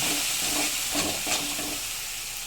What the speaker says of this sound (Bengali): লঙ্কা তারপর হলুদ দিলাম, দিয়ে একটু ভালোভাবে ভাজা করলাম